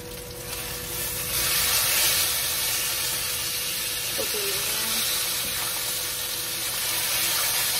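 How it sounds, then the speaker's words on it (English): Carne asada sizzles steadily in a hot pan, a close, continuous crackling hiss that holds level throughout, with a faint brief scrape partway through. "Meat is cooking."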